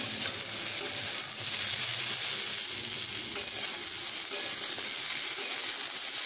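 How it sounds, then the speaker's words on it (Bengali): Potatoes, papaya and pointed gourd fry together in a pan, producing a loud, constant hissing sizzle close up that stays even throughout, with faint stirring scrapes. "পেঁপে ও পটলগুলোকে এইভাবে কিছুক্ষণ ভাজতেই আমি এবার এখানে কেটে রাখা আলুগুলোকে এখানে দিয়ে নিচ্ছি।"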